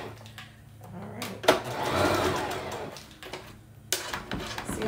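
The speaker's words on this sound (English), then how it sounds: "See how much quicker you can get it done on a sewing machine?" A sewing machine whirs in short stitching bursts while attaching a wig closure, stopping and starting, fairly close and moderately loud, with light clicks between runs.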